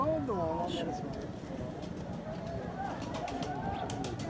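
Pigeons in a loft give soft, repeated coos against a background of other bird calls and low room noise, while someone talks over them.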